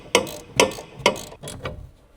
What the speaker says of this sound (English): Use the medium 14mm short socket with the medium ratcheting wrench